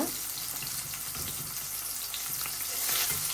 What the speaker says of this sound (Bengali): এখন কিছু করলা ভেজে নিতে আসি রাতের জন্য